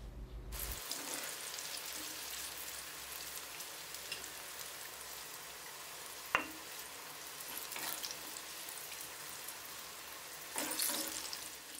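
Steady, soft sizzling of eggplants and peppers frying in oil, with a sharp clink partway through and brief louder crackles near the end.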